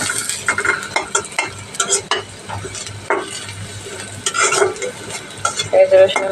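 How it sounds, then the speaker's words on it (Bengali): Onion and garlic fry in a pan for a cabbage and potato dish, a loud close sizzle with frequent scraping and clattering stirring strokes throughout. "পেঁয়াজ রসুনটাকে লাল লাল করে ভেজে নেব"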